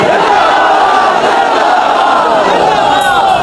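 A large rally crowd chants religious slogans in unison at the urging of a preacher, a loud, dense roar of many voices sustained throughout with no pauses.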